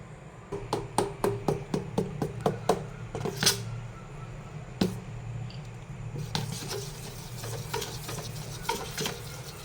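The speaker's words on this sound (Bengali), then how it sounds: "এবার মিক্সড করে নেবো" Pancake batter of milk, eggs and baking soda is mixed in a bowl: a quick run of sharp, regular whisk-and-spoon taps against the side, followed by softer scraping and clinks, close by with no talk.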